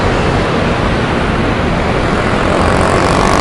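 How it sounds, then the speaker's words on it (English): A loud, dense roar of many motorbikes in Taiwan rush-hour traffic streaming past at close range, a constant wash of engine noise with no pauses. "It's not, it's just rush hour. 14 million motorbikes here in Taiwan."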